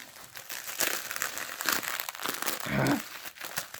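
Plastic wrapping being torn and crinkled off a boxed Edwards alarm, close-up rustling and crumpling in uneven bursts with a sharper rip near the end.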